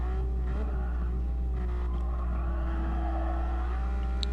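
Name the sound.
rear-engine race car accelerating at full throttle in a racing video game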